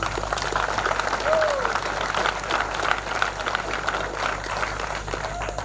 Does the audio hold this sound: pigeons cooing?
no